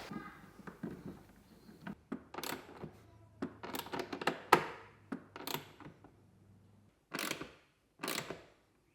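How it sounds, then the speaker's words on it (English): Screw and bolts being tightened on a mud flap fitted to a Suzuki Jimny JB74, with a series of close ratcheting clicks and short tool bursts in uneven spurts, separated by quiet pauses. "Now I just need to tighten down the top screw and the 2 lower bolts."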